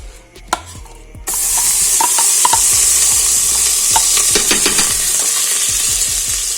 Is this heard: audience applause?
no